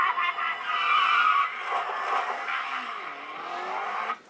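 A race car in a movie scene roars past with engine whine and tire squeal, loud and close, pitch rising and falling over several seconds, with no talk.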